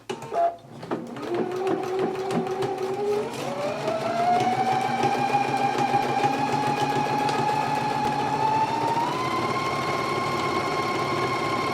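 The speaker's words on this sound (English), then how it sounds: "we're going to go to the machine and we're going to stitch it at a 5/8 of an inch seam allowance" Sewing machine running a 5/8-inch seam on a jacket sleeve, one continuous whirring run that steadily rises in speed after a short start, close and loud.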